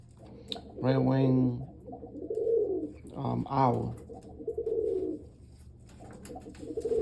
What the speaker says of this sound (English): That's a beautiful pigeon, isn't it? That red wing owl.